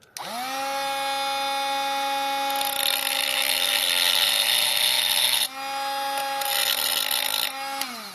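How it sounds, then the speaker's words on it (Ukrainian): A loud, steady angle grinder whine cutting metal from a power supply unit, with a strong tonal pitch, running continuously with a brief dip midway before resuming, ending with a short spin-down. "Так, от желізо, во болгарка."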